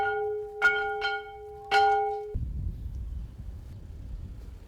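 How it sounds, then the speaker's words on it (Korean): A church bell on Jangjado island, South Korea, rings a few clanging strokes on a Sunday morning over a steady tone, then cuts off abruptly, leaving wind rumbling against the microphone. "장자도 마을 주민들이 다 듣도록 교회 종을 힘차게 울리며 예배 시간이 다가왔음을"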